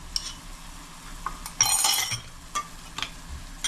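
A spoon scraping and stirring spice paste loosened with water in a pan for a mutton ghee roast, with a few clinks and a brief louder burst of sizzling frying, close and moderate in level.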